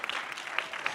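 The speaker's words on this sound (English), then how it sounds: "Clap for Zimbabwe" Brief burst of audience applause at a youth conference session, steady crowd clapping filling the short moment without speech.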